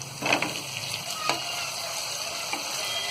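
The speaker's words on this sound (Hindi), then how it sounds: "तो थोड़ा सा हम इसे फ्राई कर लेंगे।" Potato pieces fry in a pan for mutton keema pulao, giving a steady close sizzle and crackle that lasts throughout. Occasional scrapes and stirring taps sit on top of it.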